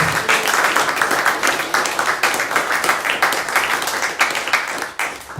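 Audience applause for kirtan singers, chanters and dancers, a dense, loud, steady clapping that fills the whole stretch and fades slightly near the end.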